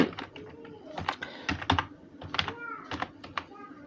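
Rapid keystrokes on a computer keyboard while working in Photoshop, a quick irregular run of clicks close by with no talking.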